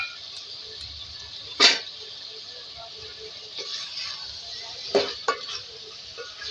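Chopped tomatoes, two large ones, stirred with red chili powder and spices in a cooking pan, giving a steady soft sizzle with a couple of sharp utensil clanks against the pan.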